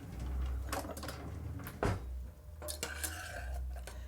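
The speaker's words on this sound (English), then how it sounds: "Let me grab a spoon." A spoon being picked up in a kitchen, quiet clinks and clatters of cutlery against dishes at irregular intervals with a low hum underneath.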